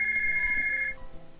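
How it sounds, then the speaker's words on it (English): A telephone rings indoors with a steady high electronic tone lasting about a second, clear and fairly close, then cuts off into quiet room noise. "suddenly I hear the phone ring"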